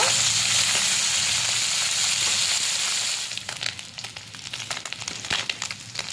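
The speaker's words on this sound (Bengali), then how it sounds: "এবার কড়াইতে ট্যাংরা মাছগুলো দিয়ে দিয়েছি, ট্যাংরা মাছগুলো ভেজে নেব" Tangra catfish fry in hot mustard oil in a wok with a loud, dense sizzle that drops to a quieter crackle and popping partway through.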